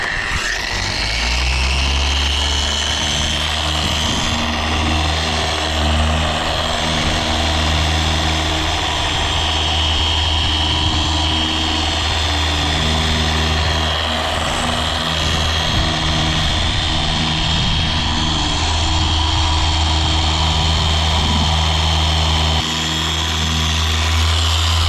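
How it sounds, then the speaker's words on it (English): A dual-action polisher buffs car paint, producing a loud, steady mechanical whir with a low droning hum that holds throughout, close by, with slight shifts in pitch as pressure changes and no talking. "This is a DA one, so helps with not buffing or getting hot spots."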